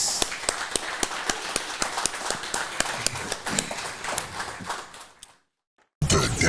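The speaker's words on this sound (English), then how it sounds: "give Elder a round of applause" Applause from an audience after a talk-show guest finishes speaking, made of sharp irregular claps at close range. It goes on for about five seconds, then stops suddenly into silence, and another burst of sound starts at the very end.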